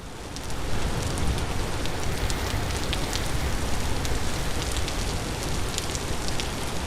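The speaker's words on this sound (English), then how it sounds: "You've got the rain, you've got the gentle sifting of the gravel." Steady rain in the video game Vintage Story, a dense, even hiss of falling drops that starts softly and quickly swells to a constant wash lasting throughout.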